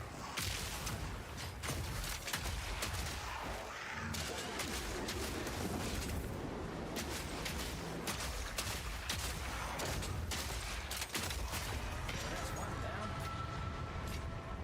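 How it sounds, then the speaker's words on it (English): Corpse explosions and shotgun fire from a Mercenary in the video game Path of Exile 2 come as rapid, overlapping sharp cracks and booming bursts in dense clusters, with a voice talking over the chaotic combat. "Free corpse explosion on kill."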